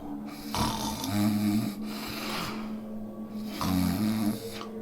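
A gnome's snoring in a narrated story, rendered as a sound effect: two long, rumbling, close snores with raspy intakes and a pause between, heard alone without speech.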